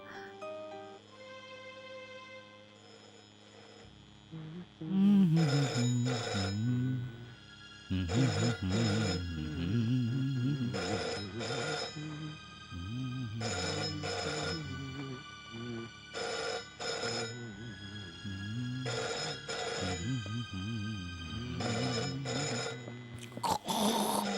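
An old telephone bell rings in repeated short double bursts, loud and close, in an indoor scene from a dubbed Hindi film; a voice and other faint sounds come before the ringing starts.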